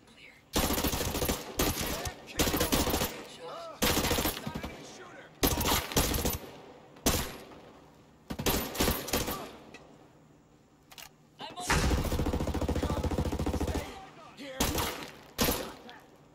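Bursts of weapon fire in combat in Ghost Recon Breakpoint, several loud automatic volleys separated by short pauses, with a voice talking in between.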